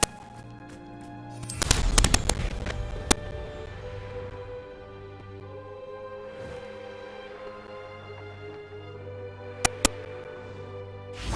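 A Confringo blasting spell goes off in Hogwarts Legacy, a loud burst of crackling explosive bangs clustered together, followed by a low steady hum and two sharp isolated cracks later on.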